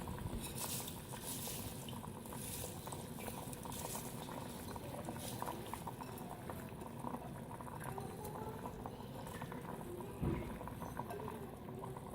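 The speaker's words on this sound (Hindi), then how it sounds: "ये पानी को एक उबाल आ चुका है।" Water comes to a rolling boil in a pot while moong daal lentil khichdi is being cooked, giving a steady, dense bubbling and burbling that runs throughout with no one speaking.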